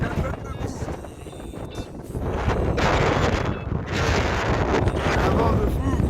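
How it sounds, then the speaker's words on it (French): Strong wind whips along a raging sea and roars loudly into the microphone in heavy buffeting gusts, with the rushing noise swelling stronger toward the end. "il y a du vent à fond"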